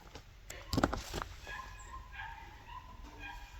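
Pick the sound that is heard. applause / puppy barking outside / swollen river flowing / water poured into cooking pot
puppy barking outside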